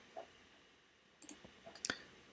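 A computer mouse gives a quick, crisp double click close by, with a couple of fainter lone clicks before it in an otherwise quiet room.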